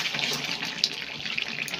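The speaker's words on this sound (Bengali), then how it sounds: "আর একটুখানি কষাবো, কষিয়ে জল দিই।" Water is added to meat being browned in a pan, a brief, close gush of pouring liquid with light splashes.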